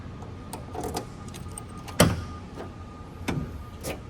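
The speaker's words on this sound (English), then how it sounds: "Let me go ahead, pop the trunk." The trunk of a 1975 Pontiac Grandville pops open with a sharp, close latch clunk near the middle, surrounded by smaller clicks and soft thumps against quiet background hum. No one talks.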